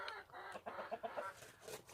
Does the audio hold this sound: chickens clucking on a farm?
yes